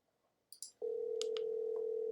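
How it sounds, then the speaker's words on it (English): Phone ringing tone from a cell phone called to join a Google Meet call, a steady sustained tone starting after a few brief clicks and holding loud and unbroken to the end. "I'm getting a phone call."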